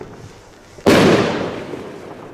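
A single black consumer firework goes off after a quiet moment: one sharp, loud burst followed by a fading crackling hiss lasting over a second.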